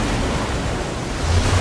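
Water gushing out of a machine in Minecraft Story Mode, a loud steady roaring rush like surf, broad and continuous with no pauses.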